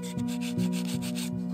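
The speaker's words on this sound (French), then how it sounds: "je gomme les petites aspérités et j'enlève les derniers résidus incrustés dans le plâtre" A plaster bas-relief is rubbed smooth to take off small rough spots, giving rhythmic close back-and-forth scraping strokes, about four passes over a steady background hum, with no voices.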